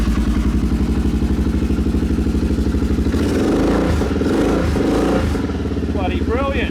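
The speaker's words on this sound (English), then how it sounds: "So give it a rev." Motorcycle engine with no choke fires up and idles in a steady loud throb, then is revved hard several times near the microphone; talk runs beneath it.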